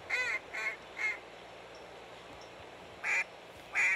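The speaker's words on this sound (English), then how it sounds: "Now, okay, call the ducks back in." Duck calls and quacks from the hunting video game Hunting Simulator 2, five short bursts of quacking: three evenly spaced at the start, then a pause, then two more near the end over a faint background hum.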